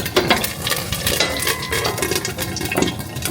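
Trader Joe's chicken chow mein frying in a hot pan, with dense crackling and sizzling and frequent sharp pops of spattering oil, close and steady.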